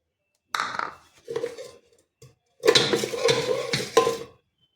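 Round dal baati balls dropped into a hot pressure cooker, whistle removed, set over low gas, bring a couple of brief metallic clatters and then a louder, busier run of pot-and-metal knocking and scraping, close by and with no talking.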